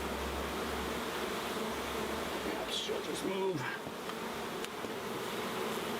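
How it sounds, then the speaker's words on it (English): A swarm of honey bees buzzes around honeycomb pulled from a birdhouse, a steady close droning hum with a few louder passes as individual bees fly near. "getting as many of the bees that were still clinging to the birdhouse"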